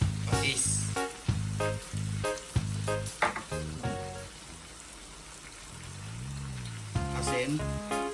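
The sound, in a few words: chicken frying with onion in a pan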